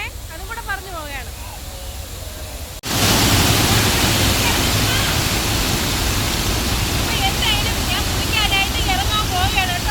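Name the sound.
Thirparappu waterfall in Kanyakumari district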